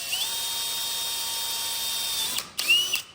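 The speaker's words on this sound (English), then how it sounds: "We're gonna pre-drill first here." Power drill pre-drilling holes for a roller bracket on a DIY winter greenhouse door, a steady high whine running for over two seconds, then stopping and starting again in a short second burst, close and alone.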